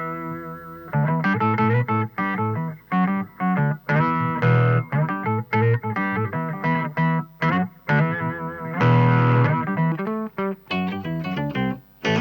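Bass guitar run through POG and Pitchfork octave effect pedals, with thick doubled octave tones in a choppy riff of short bursts and pauses, close and loud with no talking.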